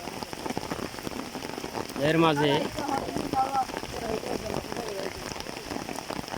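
Steady light rain patters throughout, with a brief stretch of voices talking over it partway through.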